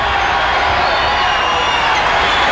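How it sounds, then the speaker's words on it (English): Raucous arena crowd at a 1993 NBA playoff game between the Suns and Spurs, a dense continuous roar of cheering that stays loud and steady throughout. "This will get this raucous crowd more into the game."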